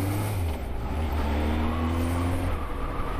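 A car engine revs as the driver changes gear in a manual gearbox. A steady low drone holds its pitch, then rises and falls as the revs change, close and fairly loud, with no talking over it.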